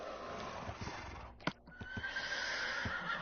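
Horse neighing in Minecraft on PS4, a single whinny rising over steady game ambience with a few hoof-like thumps, moderately loud and alone without talk.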